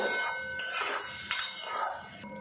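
Powdered spices being stirred in a cooking pan, with a few sharp utensil scrapes and clinks against the metal standing out over a low sizzle, close and moderately loud.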